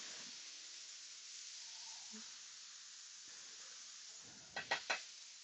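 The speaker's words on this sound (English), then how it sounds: "I will throw my chicken in first." Chicken and vegetables sizzle quietly in a hot pan, a soft steady hiss, with a few sharp clinks or scrapes near the end.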